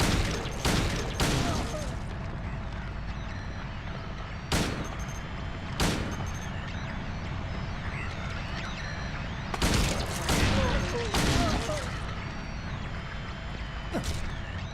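Pistol shots fired in Silent Hill 2, a string of sharp, loud bangs, some in quick pairs and clusters and others spaced a few seconds apart, over a steady droning game ambience.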